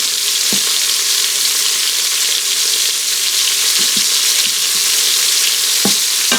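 Beef pieces sear in a pot, likely an Instant Pot, for a beef bourguignon stew, giving a constant bright sizzle with a few soft scraping stirs and clinks as the pieces are moved and flipped.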